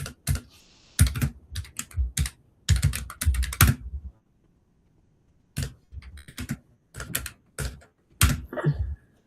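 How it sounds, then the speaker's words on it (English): Rapid bursts of typing on a computer keyboard, close and crisp, in clustered runs of keystrokes separated by short pauses, with no voices. "What am I typing?"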